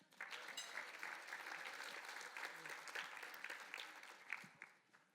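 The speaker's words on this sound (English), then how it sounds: "Round of applause" A crowd claps steadily for several seconds, the applause holding even and full before tapering off at the end.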